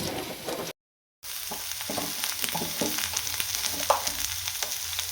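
Bitter gourd pieces frying with salt in a pan, giving a steady sizzle with scattered crackles and a few scraping stirs, briefly cut off by a short silence near the start.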